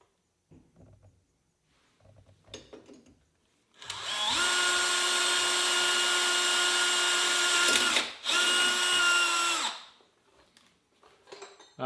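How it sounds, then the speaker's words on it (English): A power drill bores a hole through a metal bracket on a 2017 or newer Polaris Sportsman XP 1000 ATV, whining loud and steady for about six seconds with a brief dip midway, framed by quiet handling noises. "center punched and drilled my hole"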